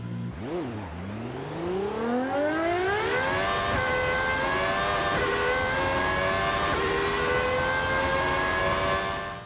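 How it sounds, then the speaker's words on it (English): The Gordon Murray Automotive T50 in Forza Horizon 5 revs hard: its engine dips, then climbs in a long, rising high-pitched howl that holds near the top, loud and close and alone. "now all that's left is to go ahead and take a listen to the engine"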